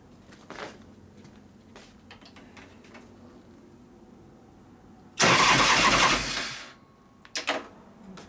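A 2001 Gilroy Indian motorcycle engine, a race bike under rebuild, cranks and catches in a sudden loud burst of roughly a second and a half, then sputters out, followed by a few short clanks and bumps.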